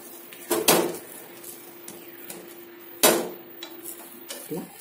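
A dosa being flipped on a pan, heard as a few sharp metallic scrapes and taps of a spatula, with two louder strikes about two and a half seconds apart over a faint steady hum.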